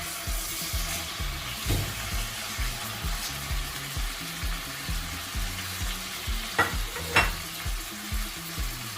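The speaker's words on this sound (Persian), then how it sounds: "روغنمون که داغ شد، گوشت رو به موادمون اضافه میکنیم." Steady, crackling sizzle of meat frying in hot oil, close and continuous, with a few sharper pops and stirring scrapes.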